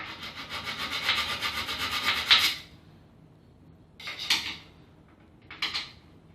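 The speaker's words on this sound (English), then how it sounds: "just need a little bit of file just here." A metal file rasps against a mortice lock faceplate during door fitting, with a sustained burst of brisk back-and-forth strokes followed by a pause and two short passes. The sound is close and clear, with no talking.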